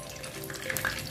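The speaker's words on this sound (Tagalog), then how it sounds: "iprito lang natin yung ating tokwa" Tofu (tokwa) frying in oil in a pan, a steady close sizzle with faint crackles and light stirring over a short stretch, no talk.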